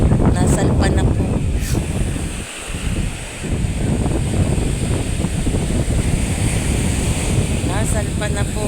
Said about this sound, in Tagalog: Lalaki na po guys ng alon.